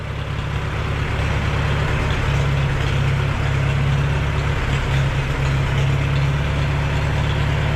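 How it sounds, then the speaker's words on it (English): An old tractor engine, previously a grandfather's, cranks on a high-torque starter and settles into a steady, loud low rumble with a constant heavy drone throughout, no voices over it. "it sounds like a high torque"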